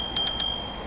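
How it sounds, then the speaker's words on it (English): Bicycle bell on a Lime eBike riding through London, three quick bright dings in under a second, close and loud over a steady hum of traffic. "Got a little bell."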